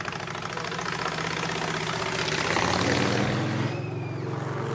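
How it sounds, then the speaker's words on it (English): Motorcycle engine passing on a street, a rough mid-pitched rumble that swells louder toward the middle and then fades as it moves away. "Oh, that's a motorcycle."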